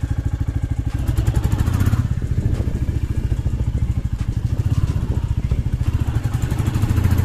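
A motorcycle engine runs with an even, rapid thumping pulse close by, steady and fairly loud with no talking.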